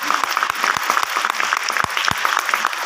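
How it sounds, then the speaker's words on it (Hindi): Enthusiastic audience applause at a formal gathering, honoring a company managing director; dense steady clapping fills the whole stretch, loud and close with a few sharper individual claps standing out. "जबरदस्त ताली होना चाहिए।"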